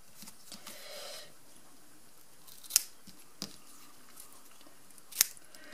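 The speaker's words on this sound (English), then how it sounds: "Trim the ends so that they are pretty" Scissors trim the loose ends of a tied knot on a covered notebook gift, giving a few sharp, isolated snips spaced seconds apart against a quiet room.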